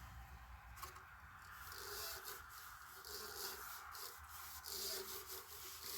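Finish being rubbed by hand into a cherry burl wooden bowl, a soft, faint, steady friction with gentle scraping strokes and low background noise.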